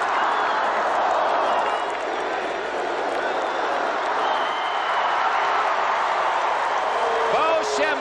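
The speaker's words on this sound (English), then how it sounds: "10, 8 as the crowd picks up the count." Rose Bowl stadium crowd roaring steadily through the final seconds of the 1981 Michigan vs Washington game in Pasadena, a dense, sustained wall of cheering and chanting with a faint announcer-like voice over it.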